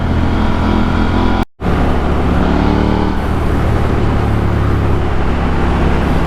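A KTM Duke 890R motorcycle engine revs hard while accelerating in second gear, a loud, steady roar close by with a brief dropout near the start.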